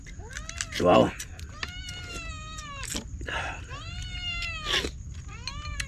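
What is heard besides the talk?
cat meowing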